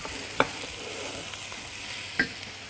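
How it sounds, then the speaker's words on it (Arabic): Food sizzling quietly in oil in a pan, with a soft steady frying hiss broken by two distinct utensil scrapes as it is turned over. "نقلبه كويس قوي مع الزيت."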